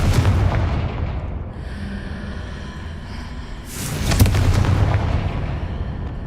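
Confringo blasting spell in Hogwarts Legacy, two heavy booming explosions with rumbling tails, loud and close, separated by a few seconds of lower rumble.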